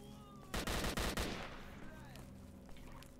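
Bursts of automatic gunfire in S.T.A.L.K.E.R. Shadow of Chernobyl, a rapid volley of several quick shots followed by a few scattered distant pops fading into an ambient hum.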